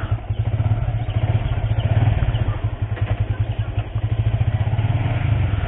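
Yamaha Vixion motorcycle fitted with R15 handlebars, its engine running close by with a loud, steady low throb and no clear rise in pitch for the whole stretch.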